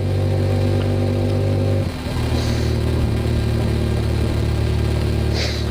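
A motorcycle engine runs steadily close by, a low continuous rumble that dips briefly and then settles back into an even idle.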